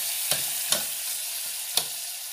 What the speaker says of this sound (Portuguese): vou deixar a carne fritando aqui a carne de porco.